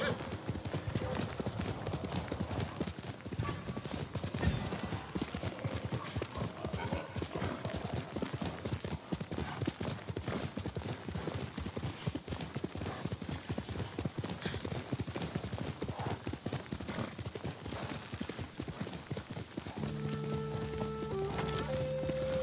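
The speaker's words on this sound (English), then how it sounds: "You're a good horse, Noble." Horse hooves gallop in Ghost of Tsushima, a dense, fast, continuous clip-clop up close, with faint in-game sounds and a brief tonal cue near the end.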